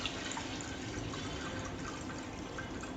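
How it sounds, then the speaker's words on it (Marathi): Water pours steadily into a steamer for a few seconds, a soft continuous splashing and trickling fill heard alone at low volume. "स्टीमर मध्ये मी पाणी टाकते"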